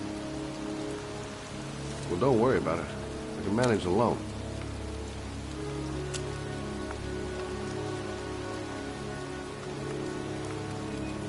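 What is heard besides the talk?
pouring rain in a cemetery, from a video game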